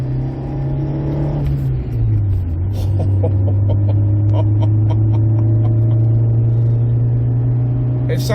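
A 1995 Alfa Romeo 164 with the 2.0 Twin Spark four-cylinder engine, heard while driving: a steady, loud mid-pitched drone that climbs in pitch as the car accelerates, with a continuous rumble of road noise underneath.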